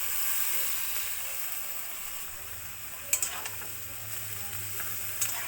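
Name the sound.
fish cooking in a wok with mustard oil and cumin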